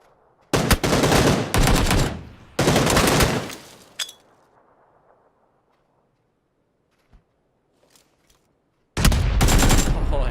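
Bursts of rapid automatic gunfire in a competitive video game match, two loud sustained volleys early, a sharp single shot, near-silence, then another burst at the end.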